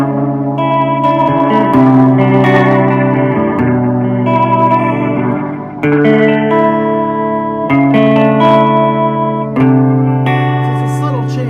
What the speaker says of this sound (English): Here's the 3 modes of the reverb.